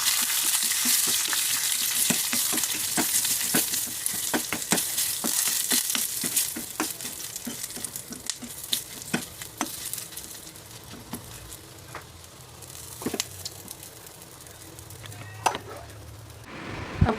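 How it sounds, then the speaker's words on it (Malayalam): Mustard seeds, a quarter teaspoon of fenugreek and four chillies splutter in hot oil for a traditional pulissery, dense sharp crackling pops over a steady sizzle that gradually thins out, with occasional stirring clinks. "നമ്മുടെ പുളിശ്ശേരി കടുക് പൊട്ടിക്കലും കഴിഞ്ഞു"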